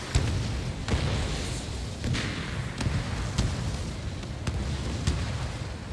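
Missiles launching and striking targets during an air combat mission in Ace Combat 7, with a steady roar of jet engine noise broken by a series of dull, booming thumps and blasts at irregular intervals.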